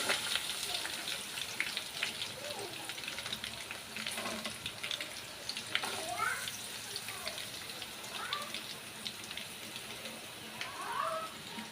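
Chopped onions go into hot oil with green chillies and curry leaves and sizzle in a continuous crackling hiss, with a few scrapes and stirs from the pan.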